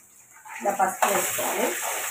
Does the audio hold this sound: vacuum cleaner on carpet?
no